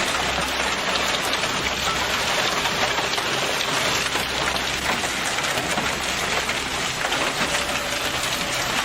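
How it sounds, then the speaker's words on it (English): Hailstorm pounding a car, heard as a dense, continuous, loud hiss of impacts with no pauses and no voices. "A car is damaged by hail."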